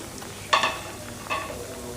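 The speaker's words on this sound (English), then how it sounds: "So our plantain is still frying" Plantain fries in hot oil with a steady low sizzle and two short louder bursts of crackle and scraping, close by, with no talk.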